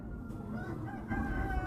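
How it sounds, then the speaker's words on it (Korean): Chickens on an organic farm cluck and crow at feeding time, a steady mix of overlapping calls at moderate distance over a noisy coop background, with no talk. "닭들의 식사 시간이 됐는데요."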